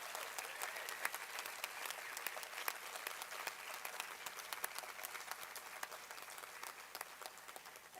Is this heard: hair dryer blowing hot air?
no